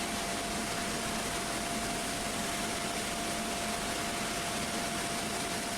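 Airbus A330neo jet engines in Microsoft Flight Simulator give a steady, dense roar with a thin constant whine running through it, unchanging for several seconds with no voices.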